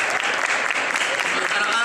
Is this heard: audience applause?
yes